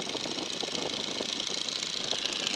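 A Navy PT-17 Stearman biplane's radial engine drones steadily and loud from close by, a continuous rough, knocking hum with no talk over it.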